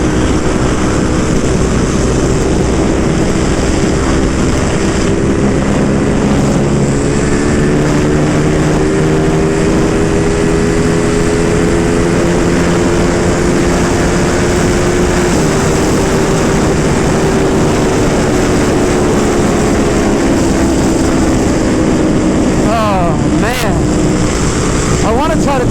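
A Ducati Panigale V2 with a Vandemon full exhaust and dB killers fitted, a loud sustained engine drone with rising and falling pitch, heavy wind buffeting over it throughout.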